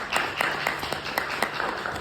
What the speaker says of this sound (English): A round of applause for that, please.